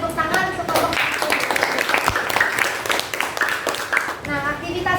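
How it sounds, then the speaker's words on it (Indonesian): Classroom applause for a student group after their presentation, a burst of clapping mixed with children's voices and a teacher speaking at the start and end. "Mari kita apresiasi dengan memberikan tepuk tangan untuk kelompok 1."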